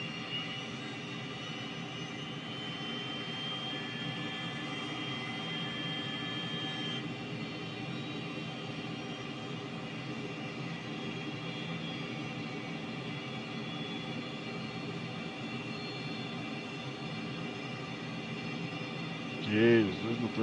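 Twin jet engines of a Cessna T-37B Tweet running in a flight simulator, a steady whining drone with tonal hum holding level throughout, with a brief louder burst near the end.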